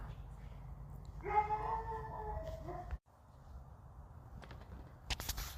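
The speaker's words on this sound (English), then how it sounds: "You may hear my dog barking at the fence with another dog" A dog howls and whines briefly in the distance, a thin wavering cry lasting under two seconds over a low steady background hum, followed by faint scattered noises and a short burst of rustling near the end.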